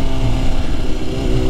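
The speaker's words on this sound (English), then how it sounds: "We're taking the S1000RR on a ride today to Gillette Castle." BMW S1000RR sport motorcycle engine running during a ride, a loud, steady, close engine drone with an even tone throughout and no talking.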